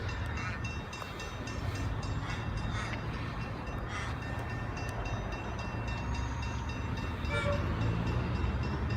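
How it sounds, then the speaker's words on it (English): An Alstom Comeng electric train set rolls into platform 2 at Aircraft Station in Melbourne with a continuous heavy rumble and wheel noise that swells slightly near the end, and faint horn-like tones can be heard. "About to come into platform number 2 here at Aircraft with a Comex Alstom set."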